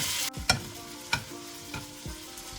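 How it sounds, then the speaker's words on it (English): A steak fries in a pan of melted butter with a steady close sizzle, while a few sharp scrapes and clinks of a utensil punctuate it as the butter is spooned over the meat. "I'm going to put in 2 tablespoons of butter. We want that to melt down pretty good."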